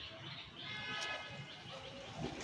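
Pigeons from a lot of imported Pakistani, Madrasi and Giribaz breeding pairs coo softly and intermittently close by, with faint rustling and a little background noise around the birds.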